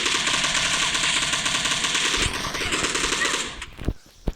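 Automatic rifle fire in a video game, an assault rifle that fires faster than the M4, in one sustained rapid burst that cuts off abruptly, followed by a few sharp isolated thumps.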